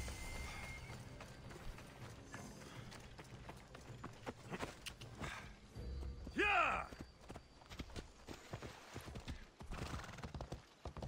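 Hooves clip-clop steadily at a run in Assassin's Creed Odyssey, with a horse whinnying loudly midway through over a busy background of game sounds.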